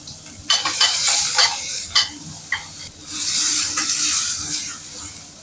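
Chopped onions fry on a low flame in a small splash of oil for a bitter gourd dish, with a steady close hiss and sizzle broken by repeated scraping, clattering stirs in the pan.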